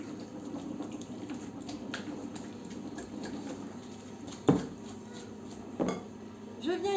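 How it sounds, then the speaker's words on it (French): A whisk beats Philadelphia-style cream cheese in a bowl, a soft continuous rhythmic stirring punctuated by a couple of sharper clinks against the bowl's edge near the end. "je viens prendre mes 300 g de fromage frais type Philadelphia que je viens fouetter"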